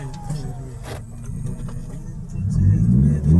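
A sports car engine idles with a low rumble, then revs louder and deeper toward the end, heard from inside the cabin with faint movement sounds.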